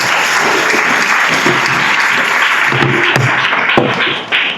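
A church congregation breaks into loud, sustained applause, dense clapping from many hands filling the room at close range and then tapering slightly at the end.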